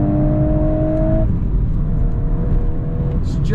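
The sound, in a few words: Volkswagen Golf R engine revving to redline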